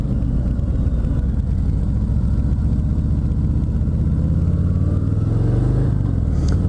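A 2019 Harley-Davidson Fat Boy 114 is ridden on the road. Its engine rumbles steadily and closely under continuous wind rush, with a slight rise in revs near the end.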